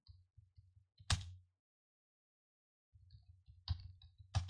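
Someone types on a computer keyboard in two short bursts of quick, light clicks with a firmer key strike in each, separated by a couple of seconds of silence.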